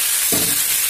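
Macaroni frying with tomato sauce in a pan: a loud, steady close sizzle with a single brief stirring scrape partway through.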